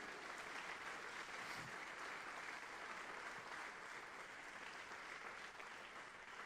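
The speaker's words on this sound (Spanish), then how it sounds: "Dale un aplauso al Señor por eso." Church congregation applauding, a sustained, fairly faint wash of clapping from a crowd that holds steady throughout with no talk over it.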